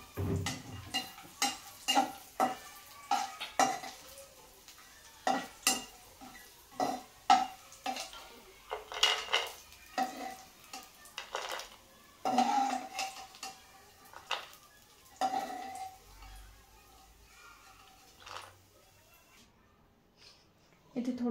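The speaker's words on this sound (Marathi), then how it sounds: "काजू बदाम घालायचे इथे. थोडं परतून घेणार आहे तुपामध्ये." Cashews and almonds roast in ghee in a pan, with a faint sizzle beneath frequent sharp scrapes and clinks of a spatula against metal and irregular stirring bursts.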